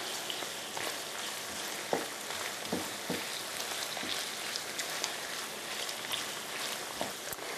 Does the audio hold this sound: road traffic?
no